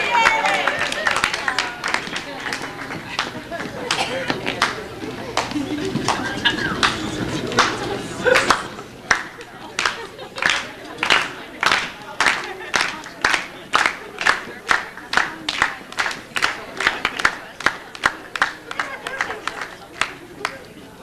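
Wedding guests clap and cheer, first a loose crowd roar mixed with shouting, then settling into loud rhythmic group clapping in an even beat, with voices calling out over it.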